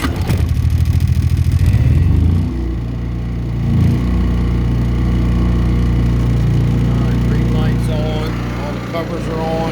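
A Yamaha EF3000iSEB generator is hand-crank started with the choke partly out. A rapid pulsing crank gives way to a loud, steady engine drone, close by and continuous, while someone talks over it.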